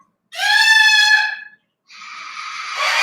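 A pet parrot gives a loud, shrill harmonic scream lasting over a second, then after a short pause a harsher, noisy screech builds and continues to the end, both close and without talk.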